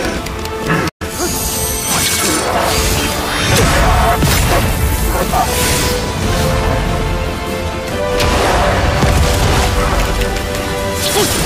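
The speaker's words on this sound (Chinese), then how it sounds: "绿丹与正统金丹不同，它可以爆炸，而且威力极强" In an animated Chinese xianxia donghua, a cultivator's green dan core explodes with a loud, sustained crashing blast, rumbling and roaring for several seconds after a brief cut, with no talking.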